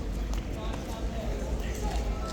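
Horse hooves clip-clop on the ground of a yard at a busy tourist spot, steady and moderately near under a constant murmur of talking people.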